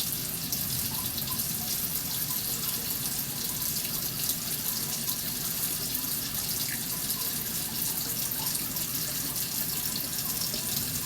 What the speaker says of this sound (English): So now we're going to put our water in here.